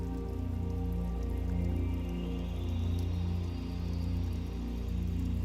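Steady rain patters on a surface, a dense continuous hiss with a faint low hum underneath and no voices.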